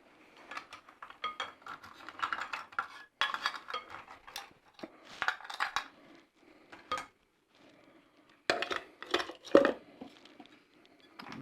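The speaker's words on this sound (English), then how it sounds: "So now we're going to add some ice to it." Ice cubes scooped and dropped into a cocktail shaker at a bar, giving clustered bursts of clinking and rattling separated by short pauses, fairly close and quiet.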